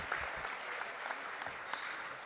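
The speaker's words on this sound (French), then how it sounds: "Je pense qu'on peut l'applaudir." Meeting audience applauding the president of the Vendôme-area SCOT planning body, a soft continuous patter of many hands with a few sharper individual claps standing out, moderately distant and quiet.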